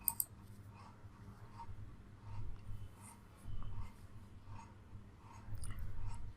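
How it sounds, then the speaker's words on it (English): Mouse clicks at a computer while navigating the AWS console, heard as a couple of faint, sharp clicks at the start, followed by soft, scattered desk noise at very low volume. "Click on EC2."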